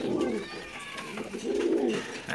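Pigeons coo in soft, rolling phrases close by, two murmuring bursts in quick succession at a loft where young squabs are kept.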